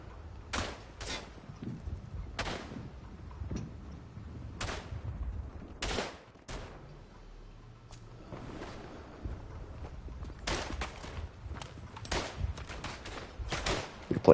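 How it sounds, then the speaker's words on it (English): Broom handle pistol shots in the WW1 trench shooter Verdun: a dozen or so sharp, loud cracks fired in uneven bursts over a low rumbling battlefield din, some shots close and some more distant. "Absolutely love the broom handle pistol."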